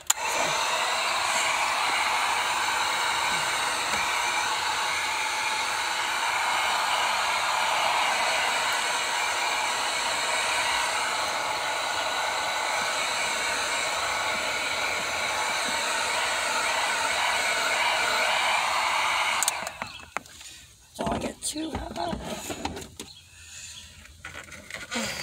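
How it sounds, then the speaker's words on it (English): A heat gun blows in a continuous loud, airy roar for about twenty seconds while warming a steering wheel cover inside a Pontiac G6 GT Coupe, then shuts off, leaving faint handling noises. "So I'm gonna have to use the heat gun and stretch it out"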